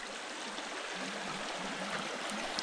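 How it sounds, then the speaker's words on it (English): A babbling brook flows beneath a small wooden bridge on a backpacking trail, its steady close rushing and trickling water filling the air without pause. "Here we have our first real babbling brook."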